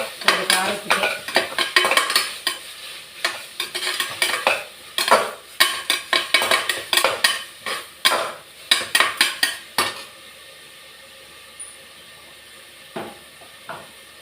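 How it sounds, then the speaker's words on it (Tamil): Ginger, garlic and mint being sautéed in a pan for tomato biryani, with a spoon stirring and scraping the pan in quick bursts, then a quieter stretch of soft frying. "இஞ்சி பூண்டு புதினா எல்லாத்தையும் ஒன்றா போட்டு வதக்கிக்கிறேன்"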